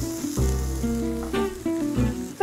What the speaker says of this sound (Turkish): Onları da doğranmış soğanla kavuracağım.